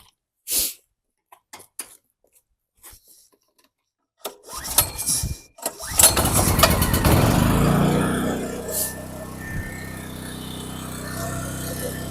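A petrol generator, cleaned after water and dirt got into its fuel, gives a few sharp pull-start bursts and sputters before catching and settling into a steady, loud, close running drone.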